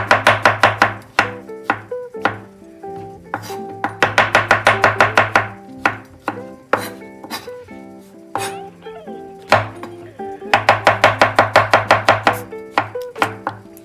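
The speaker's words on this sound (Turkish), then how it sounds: "Mantarı şimdi şöyle güzelce bir doğrayalım." Rapid bursts of a knife chopping chestnut mushrooms on a cutting board, quick rhythmic runs of taps separated by short pauses, close and crisp.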